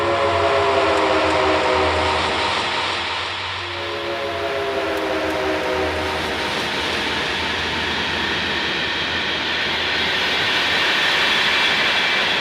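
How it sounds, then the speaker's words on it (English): A train rumbles steadily past along a street nearby, a loud sustained roar with droning tones that dips briefly and then continues without talk. "we are having a very vociferous train going through our street here"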